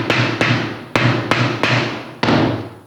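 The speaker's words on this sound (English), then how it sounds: "we're just going to simply hammer down that edge there" A hammer bangs down the edge of sheet metal rectangular duct, six sharp ringing strikes at uneven intervals, each leaving a metallic ring that fades, loud and close with no talk.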